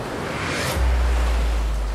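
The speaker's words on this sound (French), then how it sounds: "les vagues, mettons, qui me font un petit peu peur" Ocean waves breaking along the Hawaiian shore, heard as a hiss and wash of surf that swells into a heavy low rumble, with wind buffeting the microphone.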